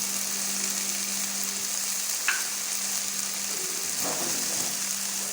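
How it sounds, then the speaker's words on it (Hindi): Soy sauce and vinegar poured into a sizzling chicken and vegetable samosa filling in a pan, producing a continuous steady frying hiss with a faint steady hum and a couple of brief clinks. "अब इसमें सोया सॉस, अब इसमें सिरका डाल रही हूँ।"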